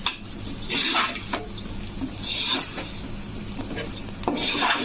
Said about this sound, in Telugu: ధనియా పౌడర్ వేసుకోవాలండి టూ స్పూన్స్ కలిపేసుకోవాలి మళ్ళీ